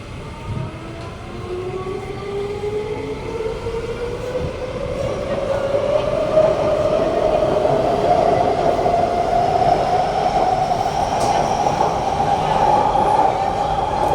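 A train rumbles steadily closer to platform B at Joo Koon station, its pitch slowly rising as it nears, with a growing metallic rail hum; no one speaks.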